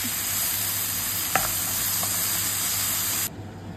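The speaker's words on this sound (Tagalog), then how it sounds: "Haluin na natin guys para lumasa na silang lahat." Chili flakes and crushed pepper are stirred into a frying pan of squid adobo with string beans, a steady loud sizzle and hiss with a brief scrape, then dropping quieter near the end.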